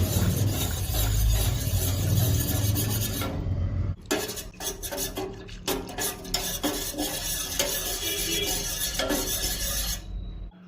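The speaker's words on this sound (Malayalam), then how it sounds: "അതുകൊണ്ട് നന്നായിട്ട് ഇതുപോലെ കൈ എടുക്കാതെ തന്നെ ഇളക്കി കൊടുക്കുക" Cornflour and milk pudding mixture stirred continuously in a pan on the stove: steady, close scraping and swishing of a spoon across the pan bottom with a faint simmering sizzle, briefly pausing partway before resuming.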